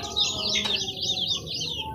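Chicks in a freshly cleaned cage give rapid, repeated high chirps in a quick rhythmic run, close and clear over a low background hum.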